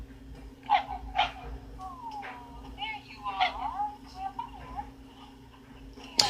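A dog in the Friday the 13th film Jason Goes to Hell barks and yips several times, with short whimpers between, at moderate distance. People talk over it.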